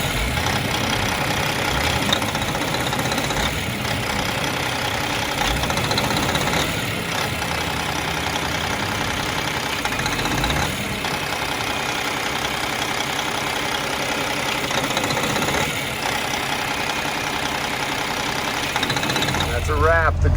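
A Cummins ISX truck engine idles after a starter replacement, giving a loud, steady, rumbling drone close by that runs unbroken throughout, with voices talking over it.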